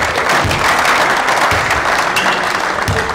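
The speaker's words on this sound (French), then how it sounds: "Vous pouvez les applaudir, vous avez été très bon." Dense, loud applause from a group cheering basketball players at a coaching session, steady broadband clapping filling the whole stretch without pause.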